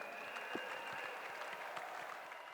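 Audience applause for Jurgen Klopp on stage at a Liverpool FC event, a steady wash of many hands clapping that holds level for a couple of seconds with no talk.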